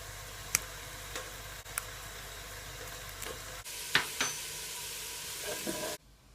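Celery and other vegetables for a butternut squash and sweet potato soup sizzle steadily in a pan, a close continuous frying hiss with occasional clicks from stirring, ending abruptly.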